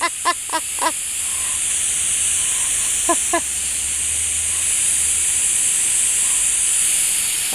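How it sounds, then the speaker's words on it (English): A garden hose sprays water in a steady, loud hiss that runs the whole time, with a few short barks or yelps cutting in near the start and again midway. "Come get the hose!"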